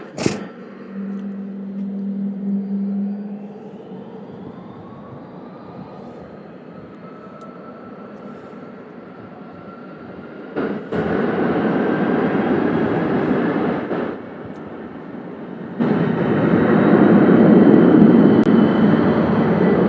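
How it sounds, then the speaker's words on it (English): Airbus A300 jet on GPS flight 2914 to Burbank at Louisville International Airport, a steady, sustained engine roar that swells louder in stages toward the end, with a rising whine faintly threaded through the rumble. "This is Airbus A300, GPS flight 2914 going to Burbank,"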